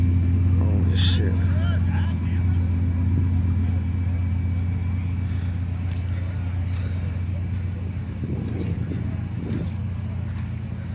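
A muscle car rolls in at an outdoor car show in Oregon, Illinois, its deep engine rumble steady and fairly close throughout, with people chatting nearby over it.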